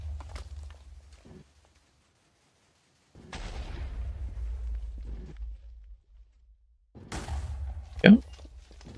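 Bursts of muffled TNT-style explosions from a Minecraft concrete-making machine, three separate rumbling stretches broken by near-silent gaps, with one sharper, louder pop near the end.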